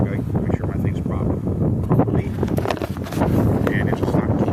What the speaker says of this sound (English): Very windy here today, but a perfect day, no humidity.